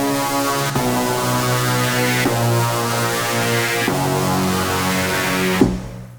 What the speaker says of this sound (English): So I started with Propeller Saw inside of Massive, which is one of my favorite virtual instruments in the entire world.